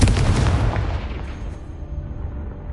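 A Confringo blasting spell explodes in Hogwarts Legacy, played on PS5: one loud, close, broadband burst that fades into a rumbling tail over a couple of seconds, with no talking.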